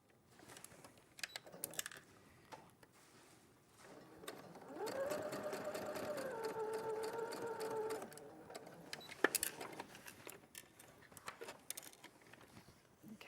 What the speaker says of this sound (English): you're sewing squares to the ends of strips